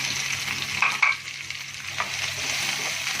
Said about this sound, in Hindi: अब हम इसमें ऐड करेंगे भिंडी। इसको हम 2 से 3 मिनट तक फ्राई करेंगे।